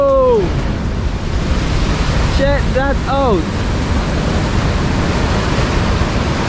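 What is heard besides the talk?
massive ocean waves crashing on rocks, Tobago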